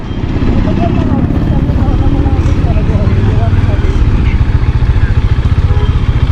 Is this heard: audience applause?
no